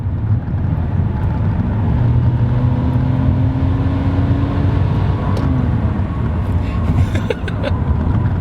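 A bone-stock Nissan Stagea RS4 wagon on the road, its turbo spooling up with a rising whine over the steady engine drone, followed by a few short hissy bursts from the blow-off actuator.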